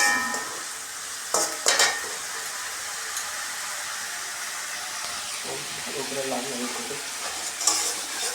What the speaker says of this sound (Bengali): লাল লাল করে একটু ভেজে নেব হালকা